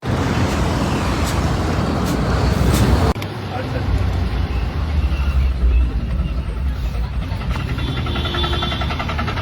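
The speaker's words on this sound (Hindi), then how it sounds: "इतनी महंगी गाड़ी लेकर बंदा रोड पे खड़ा हुआ है। आवाज सुनिए गाड़ी की।" A Land Rover Defender SUV engine runs roughly at idle near the roadside amid traffic noise, with an abrupt shift partway through as the sound changes character.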